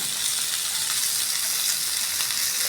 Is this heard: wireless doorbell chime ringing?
no